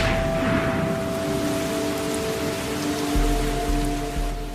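Steady heavy rain in the Amazon tropical rainforest, a dense continuous wash of drops falling on leaves and surfaces, close and unbroken, with a low rumble entering near the end.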